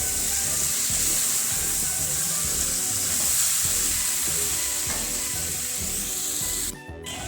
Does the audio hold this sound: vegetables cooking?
yes